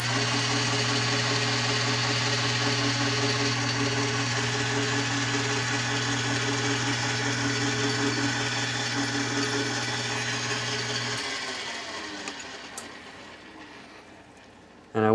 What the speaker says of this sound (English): so we need to drill deeper than that